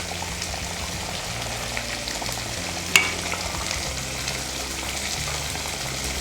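Whole eggs are turned gently in a sizzling egg thokku masala, a soft, steady frying hiss close by, with one sharp utensil click partway through and no talking.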